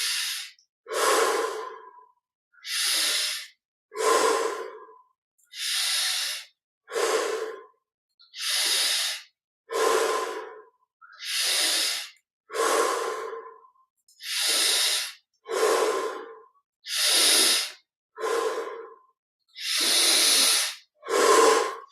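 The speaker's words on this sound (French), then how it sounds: "on respire profondément" Slow, deep breaths during guided yoga meditation come close and clear, each inhale and exhale a long airy rush, repeating steadily with short silent gaps between them.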